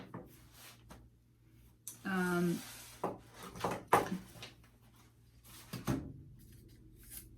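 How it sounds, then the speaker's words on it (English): A stapler driving staples through fabric onto a mini hat block, giving a few sharp clacks and rubbing handling noises, with a voice heard briefly. "you can staple it the regular way, just like this"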